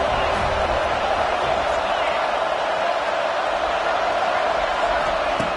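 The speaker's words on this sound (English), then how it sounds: "Decibels rising as the crowd gets behind this defense on third down." A football stadium crowd for Florida State roars continuously behind the defense on third down, a dense, unbroken wall of noise with no pause.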